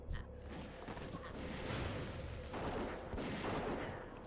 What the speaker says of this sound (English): Nice of that other hunter to shoot this guy.